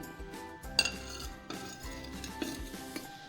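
A metal lid settles onto a cooking pot of chicken aloo with a few soft clinks and knocks over a quiet, steady background, with no one speaking.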